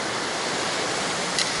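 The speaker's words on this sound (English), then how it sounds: "We have to cross Noland's Creek." Noland's Creek in the Smoky Mountains rushes past nearby as a loud, steady broadband roar of flowing water, unbroken and without talk.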